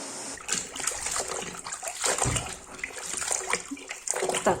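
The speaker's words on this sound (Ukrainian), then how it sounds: "йдемо мити, миємо простою водичкою, без нічого" Plain water running and splashing over freshly tiled surfaces during washing, a steady trickling spray with irregular splatters throughout and no talking.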